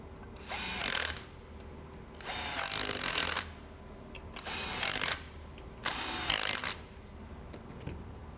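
A power driver tightens M5 bolts during reassembly of a Jarvis USSS 21-22A, four short whirring bursts separated by brief quiet pauses, close and fairly soft.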